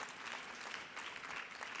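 An audience at a Health Action 2015 networking luncheon with Senator Sherrod Brown claps steadily, a soft, even patter of many hands heard from across a conference room, continuous for a couple of seconds.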